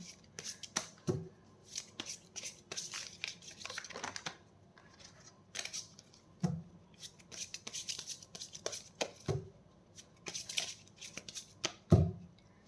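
Tarot cards are shuffled by hand in a quiet room, giving repeated soft riffles and snaps in irregular bursts with pauses between them.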